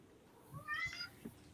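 A pet cat meows once in a drawn-out, rising call, fairly close and clear, with low household thumps and quiet room noise around it and no talking.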